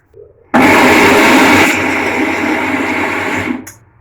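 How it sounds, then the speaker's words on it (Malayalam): A kitchen grinder crushing ingredients for a fish dish starts abruptly and whirs loudly for about three seconds, then cuts off, with a faint knock just before it starts. "അപ്പൊ നമുക്ക് ഇത്ര സാധനങ്ങൾ മൊത്തം ഇട്ടൊന്ന് ചതയ്ക്കാം"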